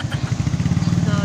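A motorcycle engine under repair runs in a rapid, chugging low idle, close and loud for a moment, with talk faint in the background.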